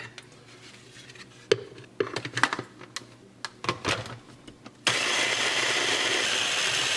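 A food processor whirs up loudly and steadily as it purees onion, garlic and ginger for malai paneer, after a few seconds of clattering and knocking while it is loaded and closed.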